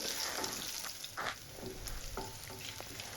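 Two green chilies and chopped ginger fry in hot oil with a steady close sizzle, broken by occasional stirring scrapes and pops.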